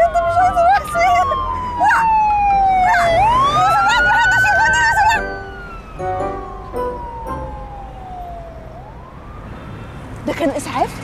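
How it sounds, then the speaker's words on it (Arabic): A loud wailing ambulance siren sweeps up and down in pitch, rising then falling, close by with traffic noise underneath and faint voices. "ده كان اسعاف؟"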